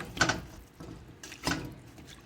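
Frozen tomato skins are knocked around in a sink of water, making a few faint splashes and sloshing knocks in two short bursts with quiet gaps between them.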